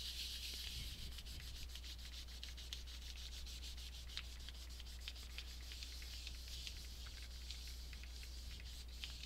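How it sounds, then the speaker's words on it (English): Metal leaf is burnished onto polymer clay with quick, faint, continuous rubbing strokes. The soft, close-up scratchy friction keeps a steady back-and-forth rhythm throughout. "And then quick burnish."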